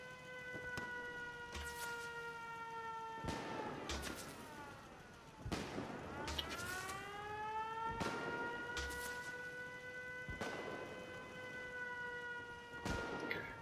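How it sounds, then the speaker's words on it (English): A settlement alarm siren in a video game wails with rising and falling harmonic tones, cycling repeatedly over several seconds with sharp bursts between cycles, fairly distant and without voices. "There's also a alarm siren here"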